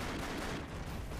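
Dense, rumbling blasts and gunfire from the side-scrolling action game Broforce, a brief loud burst of overlapping explosions with no pauses.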